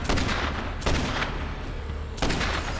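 A revolver fired in the Dead Rising 3 video game: three loud, booming shots spaced irregularly, each with a long reverberant tail that rolls on under a low rumble.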